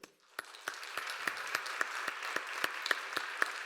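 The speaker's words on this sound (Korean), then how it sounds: "여러분 인사하실 때 큰 박수로 한번 격려하시고 축복해 주세요." A church congregation at a Sunday youth worship service applauds newly ordained deacons with sharp, evenly spaced claps in a steady rhythm, fairly soft and with no talking.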